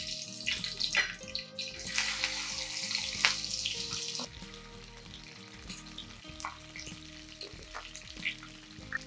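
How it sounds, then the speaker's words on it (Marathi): Okra fries in oil in a wide, shallow pan over a low flame, giving a steady close sizzle with occasional stirring clinks and scrapes and no speech. "आपण आधी भेंडी तळून घेऊ."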